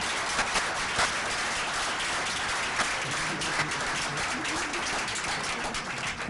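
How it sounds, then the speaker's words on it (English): An audience at a public forum on stop-and-frisk reform applauds the event organizers, a continuous, even wash of clapping from a large room that holds steady from start to finish. "a round of applause is overdue for those who worked so hard behind the scenes"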